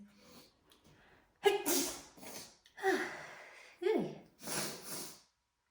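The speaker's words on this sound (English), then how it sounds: "Excuse me, I'm going to sneeze." A person sneezes a few times in quick succession, close and loud, with sharp bursts of breath between brief pauses.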